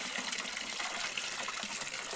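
Pump forcing water from buckets through sediment filters on an old camper truck, a steady gushing, hissing flow of water that continues evenly and fairly close.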